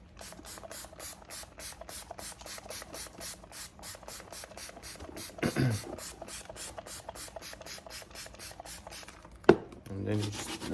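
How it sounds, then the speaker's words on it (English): Angelus leather cleaner is worked by hand into snakeskin boots, making a close, rhythmic series of short scrubbing strokes with a brief louder bump partway through. "And then you just rub it in with your hands if you want to."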